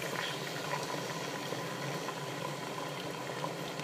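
Water poured into a pot of simmering homemade stew on a home stove, a steady close bubbling and liquid hiss running continuously with no talk over it.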